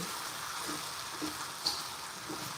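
Steady, faint sizzling of food stir-frying in a hot wok with fish sauce added at the edge, a soft hiss throughout and an occasional brief crackle or scrape.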